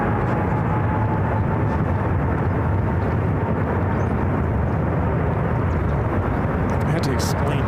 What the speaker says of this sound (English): As this flight now rock and rolls down to 28 left.